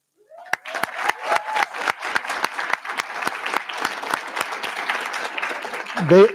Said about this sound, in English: Please join me in one more round of applause for Andrew Zawazlik and Snyder Ordonez Chimbo